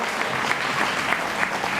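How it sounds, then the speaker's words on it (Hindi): Dense audience applause at an inauguration ceremony for a yoga foundation in Badlapur, a steady, moderately loud wash of many hands clapping for the whole stretch. "बहुत मन के साथ तालियां बजाएं"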